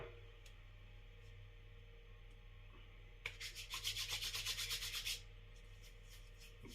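Shaving cream lather rubbed in by hand, heard as a quiet background hum and then a close, rhythmic burst of brisk scratchy rubbing for about two seconds before fading again.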